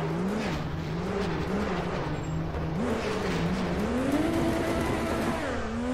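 A drift car in rFactor 2, a big-winged Nissan GT-R Godzilla, its engine droning and revving in wavering pitch as it slides, with tire noise under a continuous close roar.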